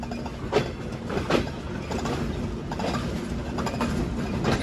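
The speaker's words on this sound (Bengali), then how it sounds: "যশোর জাংশন রেলওয়ে স্টেশনে আমরা আমাদের নির্ধারিত পাঁচ মিনিটের হল্ট শেষ করে এখন চলতে শুরু করলাম" The Rupsha Express pulls away from Jessore Junction in Bangladesh, heard from on board as a steady rumble with rhythmic clickety-clack wheel beats and occasional metallic knocks.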